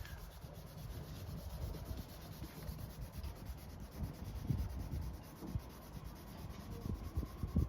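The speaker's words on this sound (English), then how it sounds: "A lot of hand sanding." Hand sanding on a boat's aft deck: rough, scratchy rubbing strokes against a hard surface, irregular and close, over a quiet background hum.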